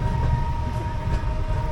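Inside a moving passenger train in Odisha: a steady low rumble and rolling rattle of the carriage, continuous and close, with a faint tonal whine over it and no speech.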